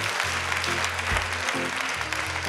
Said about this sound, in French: encore un tonnerre d'applaudissements, s'il vous plaît